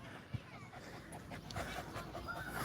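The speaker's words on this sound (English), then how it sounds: "A dog coming up to me like" Panting from a dog close by, a steady quick breathing rhythm outdoors in an open park area, with a few faint background voices and a brief knock near the start.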